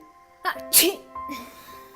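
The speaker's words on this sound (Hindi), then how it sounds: "आने लगी ना छींके" A girl sneezes sharply and clearly, preceded by a short intake of breath and followed by a faint sniffle, close and alone without talking.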